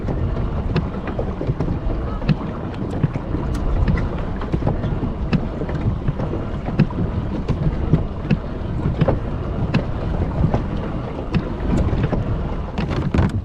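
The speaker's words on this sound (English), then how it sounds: "It's pretty windy today." Strong wind buffets the microphone on open water from a pedal-drive kayak in a constant rough roar, with occasional sharp knocks and splashes throughout.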